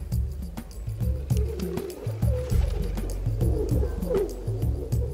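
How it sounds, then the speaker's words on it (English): Pigeons cooing in a rural Bangladeshi village, a run of repeated low throaty coos in a steady rhythm, close and clear over a soft outdoor background with no talking. "Pigeon."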